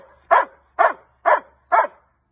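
A big dog barks four times in an even rhythm, each bark loud, close and sharp, with short silent gaps between them.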